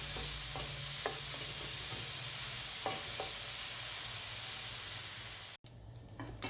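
Bacon frying in a pan over steady heat, a continuous close sizzle with occasional crackles and stirring scrapes, cut off abruptly near the end by a brief pause and lighter clatter.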